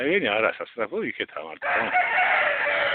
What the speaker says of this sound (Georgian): მამალი ყივის